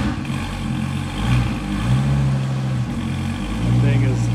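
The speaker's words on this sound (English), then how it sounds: "Amber's running the Viper." A Dodge Viper's engine runs at a steady idle with small swells in the rumble, heard close, alongside other running cars and people talking nearby.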